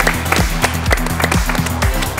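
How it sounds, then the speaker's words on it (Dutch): Applause at a Dutch family game show: sharp, rhythmic hand claps, fairly loud and close, over a steady bed of background music. "applaus."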